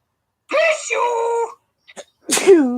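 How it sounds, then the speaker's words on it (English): A person gives a single drawn-out, vocal sneeze with a tonal wail-like build and burst, followed after a short gap by a second sneeze. "Sneeze."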